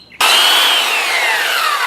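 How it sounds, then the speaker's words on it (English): A belt sander fitted with 150 grit paper starts abruptly and runs loud and steady, sharpening a Delta planer blade, with a high whine that slowly drops in pitch. "Tell that the belt sander is running on top"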